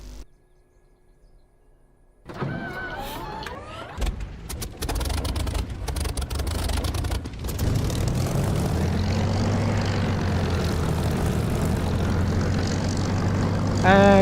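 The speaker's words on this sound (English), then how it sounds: "And now I'll push those 2 buttons, get the engine started." A propeller aircraft engine starts up in the DCS flight simulator. Switch clicks come first, then the engine cranks and catches, building into a steady, loud propeller drone that holds to the end.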